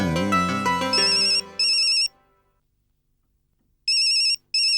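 A mobile phone ringtone plays loudly in bursts of a repeating electronic melody, following a short stretch of music, with a pause of silence before the ringing resumes.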